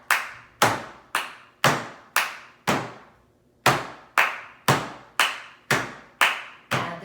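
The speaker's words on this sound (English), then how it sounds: "Add the clap." Sharp hand claps in a music-lesson rhythm exercise, evenly spaced and close, a run of six, a short pause, then eight more, with no talking.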